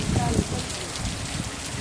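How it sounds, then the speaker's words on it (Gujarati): Heavy rain pours down in Wankaner, a steady dense hiss with low rumbling patter throughout, close and continuous, with faint voices briefly underneath at the start. "ફૂલ વરસાદ પડે."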